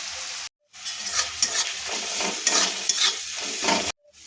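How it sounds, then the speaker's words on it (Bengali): Onion, ginger, garlic and half-ground dry chilli paste sizzle steadily in hot oil for bread pakora filling, with close stirring scrapes and a continuous crackling fry, no talk. "এবারে আদা, রসুন আর শুকনো লঙ্কা যেটা আধ বাটা করে রেখেছিলাম সেটা দিয়ে দেবো। একটু ভাজা ভাজা করে নেব।"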